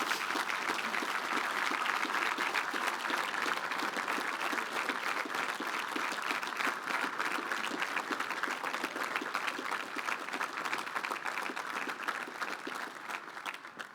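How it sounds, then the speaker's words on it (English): Steady applause from a sizable crowd at a school commencement, dense clapping that holds for the whole stretch and thins slightly near the end. "give a big round of applause"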